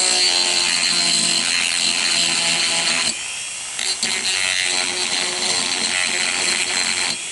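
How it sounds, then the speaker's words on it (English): A power-driven sanding roll grinds steadily against the wooden stock of a Savage 64 rifle, a loud continuous whir that dips briefly around midway and then resumes at full strength. "Now we'll take our sanding roll and go in here and dress up a little bit."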